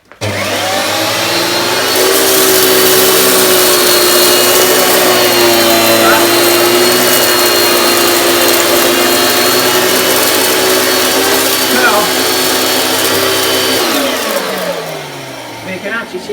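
A mid-1980s US-model Hoover Spirit S3261 upright vacuum cleaner with Quadraflex Powermatic head runs loud and steady with a droning motor hum, then winds down near the end.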